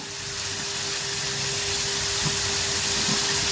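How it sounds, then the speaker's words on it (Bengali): Pakon pitha, a sweet pastry stuffed with jaggery and coconut, deep-fries in a pan of oil, giving a steady broad hiss that grows slightly louder over a few seconds, close up with no voices. "তেলে ডুবিয়ে ভাজতে হয়"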